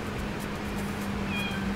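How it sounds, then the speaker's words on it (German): A cat meows in a farming simulator video game, a short tonal mew rising near the end over a steady background hum and game ambience. "Aber die Katze begrüßt mich immer hier."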